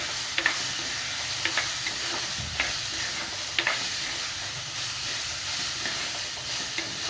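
Ingredients including potato are stirred in a frying pan, a steady soft sizzle with light scraping strokes of a spoon at irregular intervals, close and fairly quiet, with no talking.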